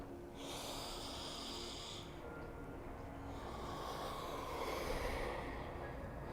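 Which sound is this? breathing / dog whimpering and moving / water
breathing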